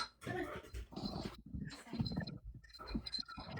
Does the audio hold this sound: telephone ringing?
no